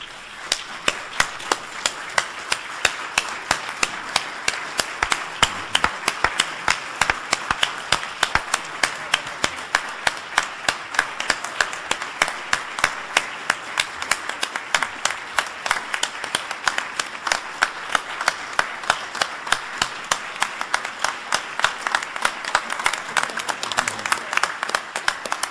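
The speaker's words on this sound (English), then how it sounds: "to stand up and to give them your robust applause" Long, sustained applause from a standing lecture-hall audience at an anniversary lecture event, with sharp individual claps ringing out over a continuous crowd wash for the whole span, fairly even in loudness.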